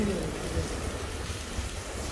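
Steady rain falls outside a hotel in India, a dense continuous hiss heard close and fairly loud for the whole stretch, with no distinct breaks.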